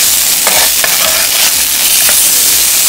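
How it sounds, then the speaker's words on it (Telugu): Vegetables fry and get stirred in a pan while cooking an Andhra-style vegetarian meal, a steady loud sizzle broken by a few scraping stir strokes, with no voices. "మీకు వద్దంటే డైరెక్ట్గా ఇలా ఫ్రై చేసుకోవచ్చు"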